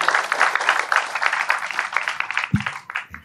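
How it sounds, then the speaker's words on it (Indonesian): Audience applause at an Islamic lecture gathering as a speaker is welcomed, a fairly loud round of clapping that tapers off, ending with a few scattered claps and a brief thump. "Tepuk tangan dulu buat Mas Nanda."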